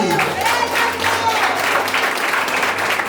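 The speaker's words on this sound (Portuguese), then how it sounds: "dá uma salva de palmas aí pra Bibi." A church congregation breaks into steady, dense applause, many hands clapping together loudly and continuously for a few seconds in a large indoor worship space.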